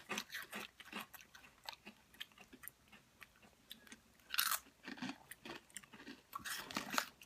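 Sweet and salty sweet potato chips crunch under close, quiet bites and chewing, with repeated crisp snaps and a few louder crunches.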